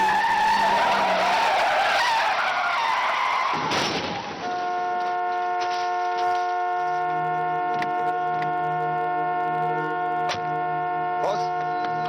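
A car skids on a road, a loud sustained tyre screech filling the first few seconds before cutting to a steady tonal hum with sharp ticking clicks; no talk is heard over it.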